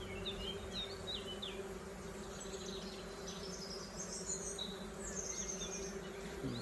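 Honey bees removed from an attic hum steadily in their hive, a close, continuous buzz with faint chirps over it and no talk.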